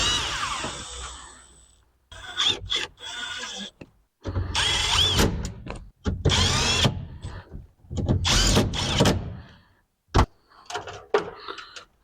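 A power screwdriver at work on a vacuum line of a 1968 Chevy G20 van, loud whirring bursts of a few seconds each separated by short pauses and clicks, close by, with no talking.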